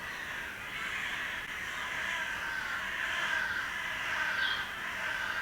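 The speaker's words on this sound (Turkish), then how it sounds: "dışarıdan karga sesleri geliyor" Crows caw outdoors, faint and distant over a steady background hiss, with repeated calls blending into the ambient noise.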